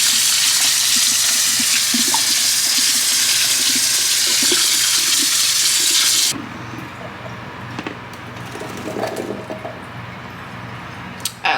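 Potatoes being rinsed under a running kitchen tap: a loud, steady gush of water for about six seconds cuts off abruptly, followed by quieter splashing, dripping and handling sounds close by, with no talking.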